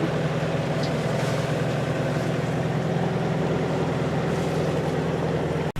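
Constant low drone of a sailboat's engine motoring along on open water, a steady close rumble with faint wash of water, unbroken and without voices.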